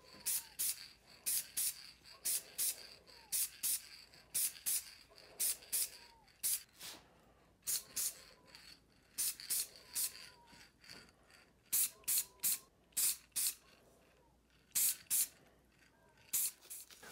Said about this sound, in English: Next, spray the barrel components with some dark metallic spray.